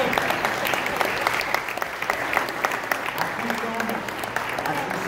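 A church congregation at Sunday Mass breaks into sustained applause, a dense steady patter of many hands clapping at close range that carries through the whole stretch with no break.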